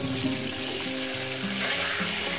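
Katla fish pieces fry in hot oil after being flipped, a brief close sizzle with low bubbling crackle under a faint background tone, with no talk.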